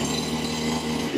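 A 2-stroke engine on a grass cutter rigged as a rice harvester runs steadily at high speed, a loud, close, continuous buzzing drone.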